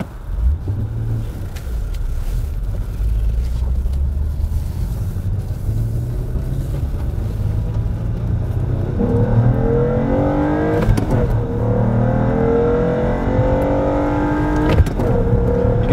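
A 2004 Acura TL with a 3.2L engine and a restricted exhaust from a failing catalytic converter drives down a street, a steady low rumble that climbs as it accelerates, loud and close, with no talk.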